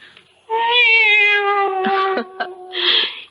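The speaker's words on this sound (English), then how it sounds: "It's the cat." A house cat meows several times in a row, close and loud, with long drawn-out calls followed by shorter cries in an old 1974 television drama scene; no talking over it.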